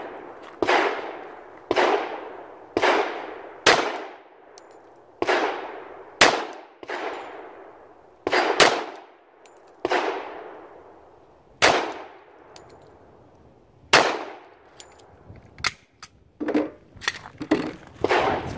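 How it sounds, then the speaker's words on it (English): A pistol fires at a target on a shooting range: a long series of sharp, loud shots with ringing tails, spaced unevenly about a second or two apart and coming faster toward the end. "We'll go ahead and shoot 5 shots and see what that looks like."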